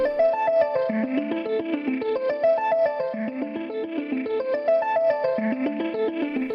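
A synth track from a song mix plays alone, a continuous run of bright, quickly moving notes with chorus and echo-like shimmer, steady and fairly loud throughout.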